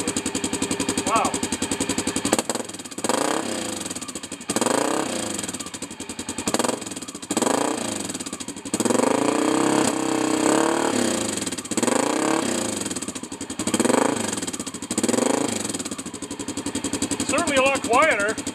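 Honda XR650L motorcycle engine fitted with an E-Series exhaust pipe, running steadily near the microphone with a continuous throbbing idle while someone talks over it through most of the stretch.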